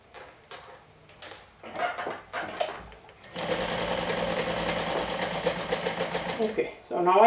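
A sewing machine stitching a plush blanket made from two adult toppers: after a few short stop-start bursts, it runs in a steady fast rattling hum, close and loud.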